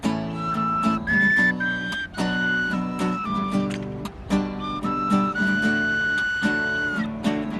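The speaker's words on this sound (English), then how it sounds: "his skills on those whistles, I don't know where that comes from" Folk music on whistles from a Dunedin folk act: a bright melody of held and sliding notes over a strummed, rhythmic accompaniment, steady and close throughout.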